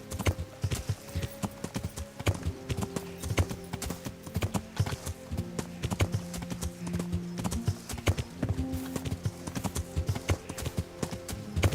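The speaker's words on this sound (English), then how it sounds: "Roach is quite a bit faster than our previous horse, Pebbles." Horse hooves clip-clop steadily as a rider travels on horseback in a video game, a fast, even rhythm of close hoofbeats over a soft background tone, with no speech.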